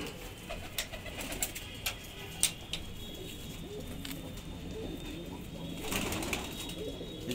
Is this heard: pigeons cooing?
yes